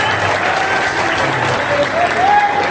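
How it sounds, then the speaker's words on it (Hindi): Applause from the audience at an all-India Hindi poetry gathering, a broad, steady wash of many hands clapping for a few seconds with crowd murmur mixed in. "कविता कैसी लगी एक बार तालियां बजा करके मुझे बताइए।"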